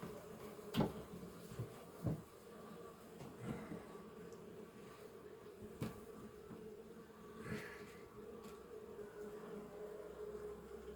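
Honey bees humming at an opened hive during a spring colony inspection, a faint, continuous low buzz with occasional soft knocks and clicks from handling the frames.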